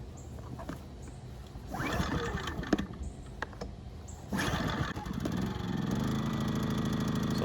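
A Westinghouse 1800-watt inverter generator, newly filled with oil and gas, gets pulled through a couple of starting attempts. It then catches and settles into a steady, close running drone.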